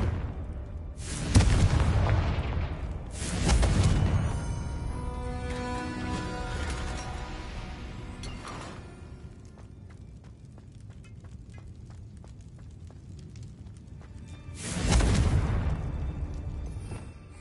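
A Confringo fire blast spell cast in a PS5 video game: three heavy booming blasts, the first two close together and the last after a long pause, each with a rumbling tail and a ringing, tonal shimmer between them.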